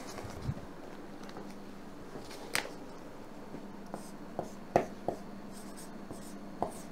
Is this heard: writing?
yes